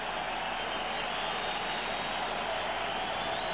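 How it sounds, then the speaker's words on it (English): Baseball stadium crowd with the bases loaded, a steady roar of cheering and applause from a large audience, continuous and fairly distant, holding at an even level for a few seconds. "The crowd is on its feet."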